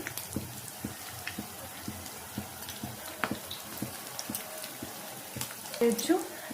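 Egg 65 pieces frying in hot oil, a soft continuous crackle and spatter running steadily with small pops and a brief louder bubbling burst near the end.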